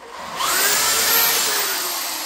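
A power drill bores a hole into a brick wall. A close, loud whine rises as the bit bites in and holds for about two seconds.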